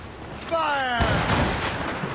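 A ship's cannon volley in Assassin's Creed Rogue: a heavy booming burst of fire rolls out after a brief voiced shout, layered blasts blending into a sustained rumble.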